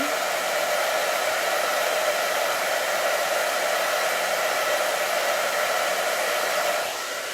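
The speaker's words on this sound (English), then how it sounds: "Thank goodness for the hairdryer." A hair dryer blows with a steady, loud whirring roar that holds constant before easing slightly at the end, used to dry paint on a mixed media collage.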